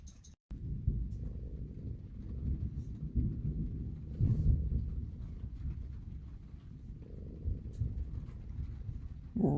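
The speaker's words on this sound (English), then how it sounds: "Rolling thunder." Rolling thunder from a storm rumbles low and deep in the dark before sunrise, with long swelling rolls that fade and return, faint-to-moderate and without speech.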